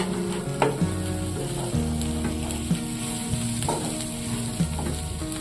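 Cluster beans and grated coconut sautéing in a pan, giving a steady loud sizzle with scraping stirs and occasional clacks of a spoon, with tonal background music running underneath.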